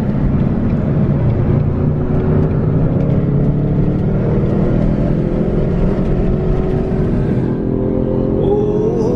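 Car engines rumble and rev steadily and loudly at a large street car takeover in Minneapolis, a continuous dense roar of traffic passing close by without pause.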